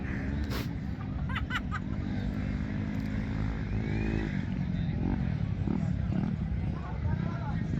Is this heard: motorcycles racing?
yes